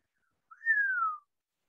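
A reader's voice imitates a dwarf's low whistle through the teeth. It is a single soft whistle lasting under a second, sliding gently downward in pitch, alone in silence.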